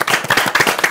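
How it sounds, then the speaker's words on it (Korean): An audience at a KAIST student-and-president vision talk event claps briefly, giving a quick run of dense, even hand claps at moderate loudness with no voices over them. "박수 한번 부르세요."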